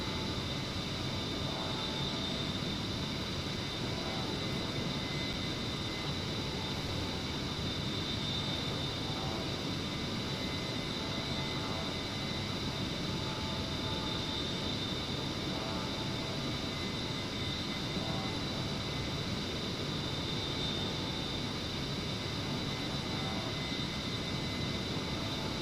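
The A-10C Warthog engine in the DCS flight simulator drones as a steady, dense jet roar with a high whine on top, continuous and unchanging throughout with no talk.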